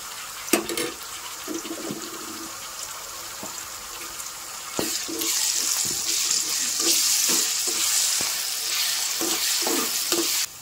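Sliced onions frying in a pan with ginger stirred in, cooked village-style for a fish egg fry; a steady, close sizzle with repeated spatula scrapes and clatter, growing louder midway, no talking.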